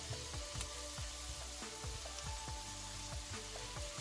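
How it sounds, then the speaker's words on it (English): Ackee and saltfish with tomatoes sizzles in a pot while a spoon stirs it in a steady rhythm of soft scraping strokes, close and moderately loud, with a brief louder clatter at the very end. "Again, give it a good stir."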